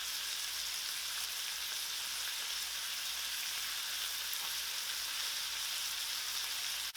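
Striped bass fillets fry in a pan with butter, cilantro and sliced lemon over medium-high heat, giving a steady, dense sizzle that holds at an even loudness throughout, with no voices.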